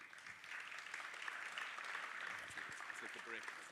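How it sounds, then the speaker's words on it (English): Faint, steady applause from a conference audience after a talk at Devcon, a continuous distant patter of clapping held at an even level for a few seconds. "another round of applause,"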